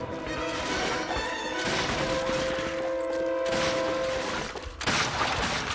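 Gunfire in the video game Call of Duty: Finest Hour comes as repeated loud shots and bursts over a busy battle din, with sharp crashes marking fresh volleys.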